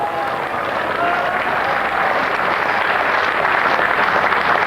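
A crowd at an indoor bowls final applauds warmly, a dense, sustained wash of clapping that carries right through at a steady level.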